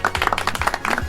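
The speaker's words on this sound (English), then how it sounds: "That applause is just for you, Dorothy." Studio audience applause honoring a longtime Toledo Symphony youth orchestra figure, a steady patter of hand claps filling the whole moment at moderate loudness with no talk over it.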